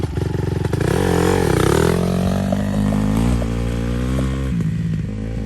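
A Pitster Pro 190 dirt bike with a manual clutch is ridden nearby over flat ground, its single-cylinder engine buzzing loudly and continuously, with the pitch climbing and dropping as it revs and shifts.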